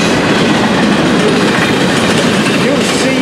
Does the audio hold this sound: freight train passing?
yes